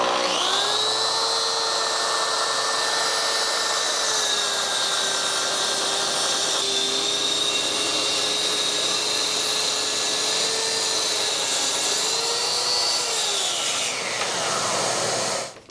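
Bosch GKT13-225L corded track saw making a 45-degree bevel cut, a loud continuous high motor whine with a steady blade cutting tone for about fourteen seconds, then spinning down, close and alone.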